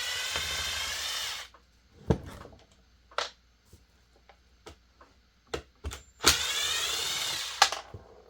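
A powered driver pulls screws from a Stihl 021 chainsaw during disassembly, whirring in two loud bursts at the start and near the end, with scattered clicks and ticks of parts being handled between them and no talking.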